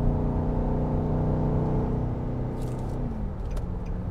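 A 2024 Nissan Patrol Warrior 4x4 with automatic transmission accelerates hard to overtake while towing a caravan, its engine droning steadily and loud, the pitch holding then rising near the end, with no talk over it.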